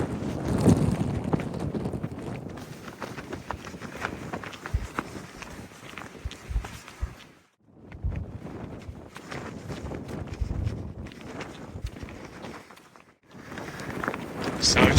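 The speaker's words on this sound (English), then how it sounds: "the wind is picking up" Strong westerly wind gusting across a coastal road near Dunnet Head, a loud rushing and buffeting roar on the microphone that briefly drops away twice, with speech heard over it.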